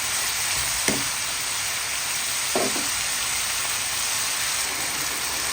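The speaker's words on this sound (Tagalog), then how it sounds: "Ginigisa natin together with our carrots na rin po." Steady sizzle of carrots, Baguio beans and other vegetables sautéing in a pan for pancit, continuous and close, with a couple of faint stirring knocks and no talk.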